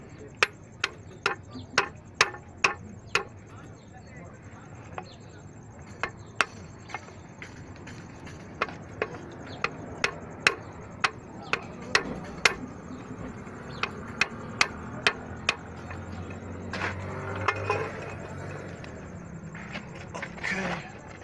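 Hammer blows on a Volkswagen dog bone bushing in a workshop, sharp metallic strikes in quick bursts of several hits, then spaced single knocks, loud and close over a low background rumble.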